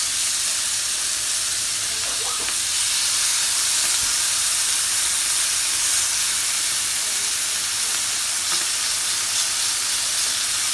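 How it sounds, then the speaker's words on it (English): Chicken laid skin side down in a hot oiled pan sizzles and hisses loudly and continuously, a dense crackling fry with a few small pops, heard close up with no talking. "Hear that sizzle? You know it's hot."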